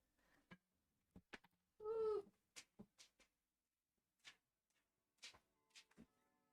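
A cat at the door gives one clear, drawn-out meow amid a series of sharp ticking clicks and knocks in a quiet room.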